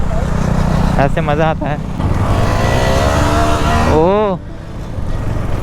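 KTM Duke 390 motorcycle engine running loud and steady while riding on a hill climb toward a dam, a rising whine of revs under someone talking excitedly, fading slightly near the end.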